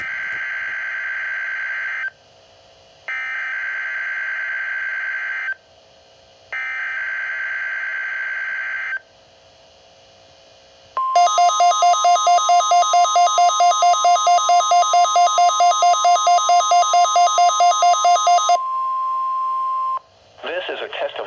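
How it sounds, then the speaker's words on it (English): NOAA All Hazards weather radio weekly test on station KEC-83 in Baltimore: loud pulsed data-burst tones in three bursts, then a long continuous steady warning alarm tone lasting several seconds before cutting off. "This is a test of the All Hazards NOAA weather radio warning device."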